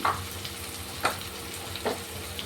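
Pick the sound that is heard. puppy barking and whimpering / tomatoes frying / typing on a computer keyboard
tomatoes frying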